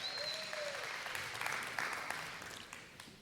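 An audience at a live Sukkot scripture reading claps briefly, a soft, fairly distant patter of many hands fading over a few seconds.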